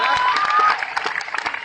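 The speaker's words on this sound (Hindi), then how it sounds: "तालियां।" A crowd at an Indian company's 13th anniversary event bursts into applause, a dense clatter of clapping that starts loud and thins into scattered claps, with a voice briefly over it.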